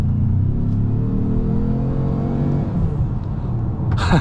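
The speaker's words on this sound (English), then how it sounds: "The car has a really loud turbo whooshing sound in pretty much any single drive mode there." A 2025 Ford Maverick Lobo pickup accelerates hard, its engine note rising in a loud, close run of revs before easing off. A short burst of higher-pitched noise comes at the very end, with no voices.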